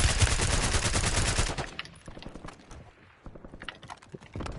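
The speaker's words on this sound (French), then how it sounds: "Je recharge. Nouveau chargeur. Merde, on me tire dessus." Dense, rapid gunfire fills the opening of a Warzone match, then gives way to scattered shots and mechanical clicks, with brief bursts returning near the end.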